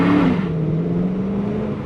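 Dodge Charger R/T with a 5.7 Hemi V8 while driving, a loud, steady low engine drone with a slight pitch dip and continuous road and wind noise.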